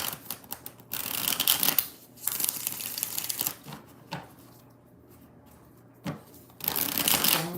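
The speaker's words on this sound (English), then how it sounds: "5 shuffles." Tarot cards being shuffled by hand in several separate bursts of crisp riffling and flapping, close and fairly quiet, with brief pauses between shuffles and no talk.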